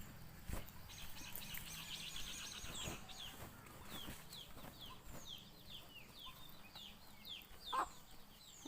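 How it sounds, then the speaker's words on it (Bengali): Hens clucking beside a home vegetable field, a steady run of close, soft clucks and short calls throughout, with a brief flutter or scuffle near the end and no talking. "দেখো মুরগিগুলো এখানে বসে বসে ঢোকার জন্য কি করছে"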